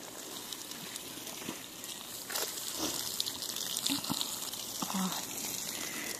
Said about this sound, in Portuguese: A água tá entrando pra fora.